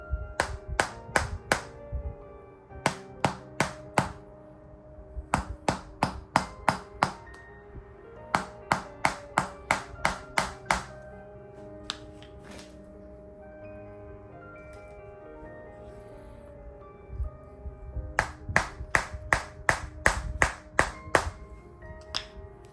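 A percussive massage hammer pounds on shoulder and trapezius muscles in quick bursts of sharp, rhythmic taps, each burst of about eight to ten hits, separated by quieter pauses, close and distinct.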